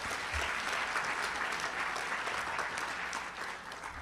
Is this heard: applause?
yes